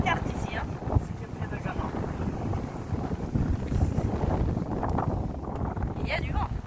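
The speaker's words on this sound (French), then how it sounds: "Il y a du vent." Strong wind buffets the microphone beside a flat stretch of water, a constant roaring rumble with gusts, while people talk underneath it.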